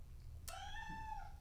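A cat gives a single clear meow, a rising then falling tonal cry lasting about a second, close and alone over a low steady background hum.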